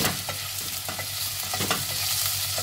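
Meat and softened onions fry in oil for a celery stew, with a utensil stirring and scraping the pan in repeated strokes over a constant close sizzle.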